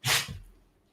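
A single short sneeze, sharp and breathy, close by and fading quickly into quiet.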